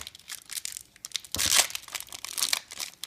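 Crinkling and tearing of a foil wrapper on a pack of 2015 Topps Update Series baseball cards, close and uneven, with a louder rip partway through among soft rustles.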